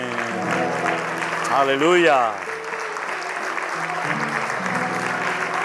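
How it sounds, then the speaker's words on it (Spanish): A church congregation applauds during a worship service, a steady wash of clapping under a voice that sings out in praise and then keeps speaking. "Fuerte ese aplauso a nuestro Dios."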